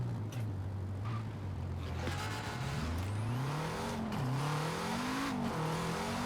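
A drift-built rally car engine in Forza Horizon 4 drones low, then revs and climbs in pitch, surging up and down steadily throughout with no voices.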